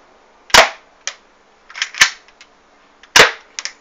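A Mini Defender toy gun fires at a target, three sharp cracking shots spaced about a second apart, each followed by a few faint clicks and rattles of the mechanism, close and loud with no talking.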